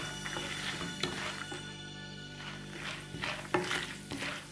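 Poha mixture frying in a pan, a soft steady sizzle with occasional scraping stirs and light clinks, fairly quiet.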